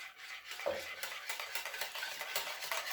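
A utensil stirs milk into tuna clafoutis batter in a bowl, with quick repeated scraping and swishing strokes, soft, close and steady, with no voices.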